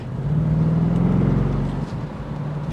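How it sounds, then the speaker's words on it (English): Throaty exhaust of a 2024 BMW M850i convertible, a loud, steady low rumble that holds for most of the stretch, eases slightly near the end, and runs alone with no voices over it. "A throaty exhaust note that comes in."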